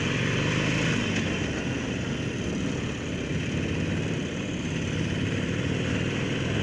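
A 2017 Harley-Davidson Roadster motorcycle engine runs steadily at low revs in second gear at about 25 miles an hour, a continuous deep rumble with wind noise and no talking.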